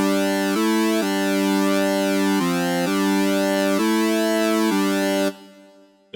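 A synthesized tone run through a flanger in FL Studio for hardcore music, a sustained bright chord that steps between pitches with sweeping comb-filter whooshes, loud and alone, cutting off abruptly near the end.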